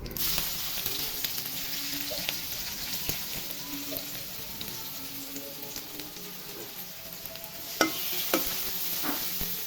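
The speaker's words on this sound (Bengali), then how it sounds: "পেঁয়াজগুলো ভেজে নিব।" Chopped onions fry in hot oil with a dried red chilli and cumin, giving a constant close sizzle marked by occasional stirring scrapes and a sharper clack near the end. No voices are heard.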